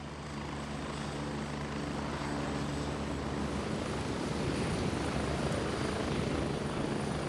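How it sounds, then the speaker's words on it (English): A helicopter in Gray Zone Warfare gives off a continuous low rotor thump and engine drone that grows slightly louder and choppier over several seconds, with no voices. "We get to listen to the helicopter."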